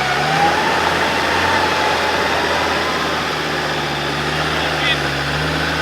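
A Land Rover Discovery 2 engine labours and revs steadily while climbing a rocky off-road track, a loud continuous drone with people talking over it.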